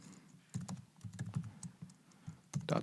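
Quick, light clicking of keys on a computer keyboard as a short word is typed, with irregular soft taps and brief pauses, close and faint.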